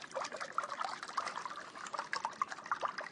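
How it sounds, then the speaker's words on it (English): Vanilla custard pours into a casserole dish, a soft close trickling and splattering liquid stream with small uneven gurgles, fairly quiet and without talk. "And pour your vanilla custard down over the top."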